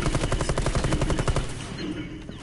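Rapid automatic gunfire from a first-person co-op shooter, Rainbow Six Extraction, rattles in a steady loud burst for over a second before tapering off into quieter game ambience.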